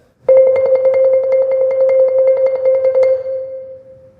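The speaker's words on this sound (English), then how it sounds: "try to split that center exactly with my two mallets so that I get as even a roll as" Two mallets roll evenly on a single keyboard percussion bar, struck at both sides of its centre in a rapid, steady tremolo for about three seconds, then the tone rings out and fades alone.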